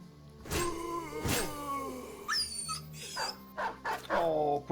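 Dog yelping and whimpering in the Battle Brothers game during a battle, with sharp cries, pained yips and rising whines in close succession, loud and near, mixed with other game sounds.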